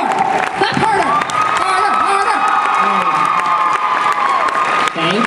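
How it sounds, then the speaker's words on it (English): Audience applause and cheering at a cosplay event, the Katsucon 2014 World Cosplay Summit regional qualifiers, a loud sustained crowd of clapping, whoops and shouts filling a large hall. "let's give a round of applause to our wonderful teams"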